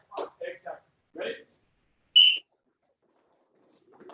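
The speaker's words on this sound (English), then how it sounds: "This time when I blow the whistle" One short, sharp whistle blast sounds in a karate class, loud and piercing, following an instructor's brief spoken words, with quiet pauses around it.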